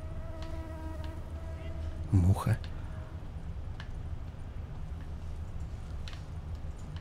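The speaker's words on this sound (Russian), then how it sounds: "Муха." Housefly buzzing in The Witcher 3: Blood and Wine game world, a faint steady hum over quiet ambience with a brief louder pass midway.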